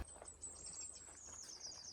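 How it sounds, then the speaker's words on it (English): A large owl flies past outdoors on a countryside walk, giving a soft, brief rush of wing flaps close by over a faint steady high whine, with no talking. "A great big owl just flew past me."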